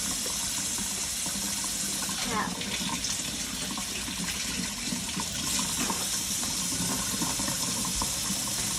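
Steady stream of water from a kitchen sink tap as hands are rinsed of egg yolk, a continuous close splashing rush throughout, with soft voices faintly underneath.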